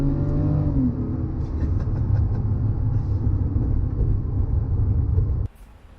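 A Bentley Continental GT Speed on a drive gives a loud, steady low engine rumble with a slight rising rev at the start, running continuously before cutting off abruptly near the end.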